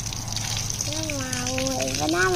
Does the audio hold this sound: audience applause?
no